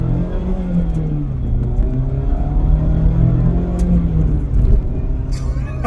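A 2024 Mazda Miata ND3 engine heard from inside while driving, a loud continuous drone whose pitch rises and falls through revs, with road noise throughout.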